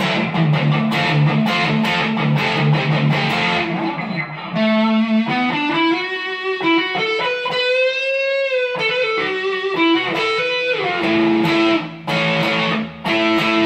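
A distorted electric guitar on a 1988 Gibson Les Paul Custom Lite with EMG pickups, bridge pickup, plays gritty chugging chords, then sustained bending lead notes with a crunchy, saturated Marshall-like tone, loud and close.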